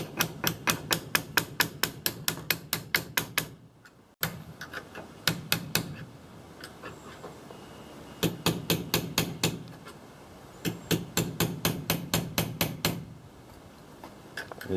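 Sharp, regular hammer blows drive a telescope stop into an aluminum Apache camper lift, striking in rapid bursts of a dozen or so hits separated by brief pauses, loud and close.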